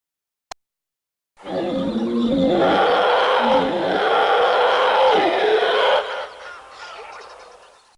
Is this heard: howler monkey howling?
yes